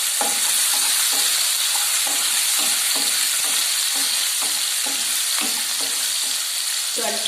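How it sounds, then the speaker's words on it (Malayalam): Garlic, coconut pieces, ginger and green chilli sauté in a hot pan for a Kerala-style beans stir-fry, a steady loud sizzle of frying oil broken by regular scraping stirs of a spoon against the pan. "വെളുത്തുള്ളി, തേങ്ങാക്കൊത്ത് ഇതെല്ലാം ഇട്ട് നല്ലപോലെ വഴറ്റിയെടുക്കുക"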